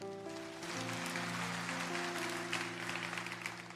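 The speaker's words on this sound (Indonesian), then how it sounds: "Kasih tepuk tangan untuk Tuhan" A church congregation claps during a sermon, soft steady applause over sustained music tones from a keyboard or organ.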